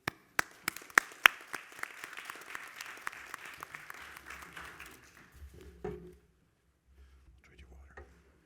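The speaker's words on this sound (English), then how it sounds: "So please give great applause to Ian and give him the floor." Applause from a conference audience at a scientific forum side event in Vienna, a few sharp claps at first and then a steady wash of clapping that fades out over several seconds, followed by faint room noise and low murmuring.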